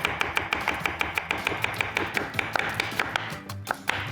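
A kitchen knife slices an onion into half-rings on a cutting board, giving quick, evenly spaced taps close by with no talk over them.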